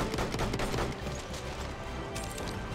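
Gunfire crackles through a multiplayer shooter match, dense overlapping shots and impacts in a rapid busy stream, loud and mid-distance, with no voices over it.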